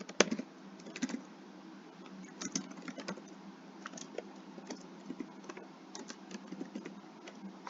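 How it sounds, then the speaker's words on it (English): Quiet, steady typing on a computer keyboard while entering Python code, a brisk irregular patter of key clicks with occasional louder taps, close by and without talk. "I'm just going to type out this section of code"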